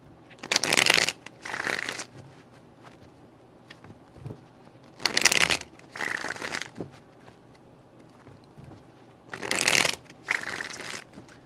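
Tarot cards are riffle-shuffled by hand in three separate bursts, each a quick crisp flutter followed by a softer second riffle, close up with quiet pauses between.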